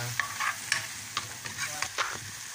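Onion and garlic sautéing in a pan for chop suey, a steady sizzle broken by quick scraping stirs of a spatula, close and lively, without talk.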